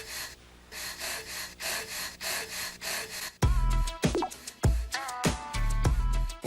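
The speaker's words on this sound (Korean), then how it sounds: "그래서 시작할 때 숨소리가" Rhythmic breathing sounds laid down as the opening bed of a K-pop song, with pulsing breaths over a steady backing before heavy beats and brighter music kick in.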